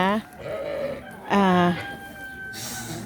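Goats bleat at a Bedouin camp in the Judean Desert, two wavering calls nearby, with a person talking in between.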